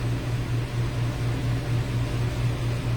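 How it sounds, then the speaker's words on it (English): A room air conditioner runs steadily indoors, a continuous low hum with a faint pulsing tone and broad airy hiss, constant and fairly loud throughout with no speech. "our air conditioner's on in here because it's hot"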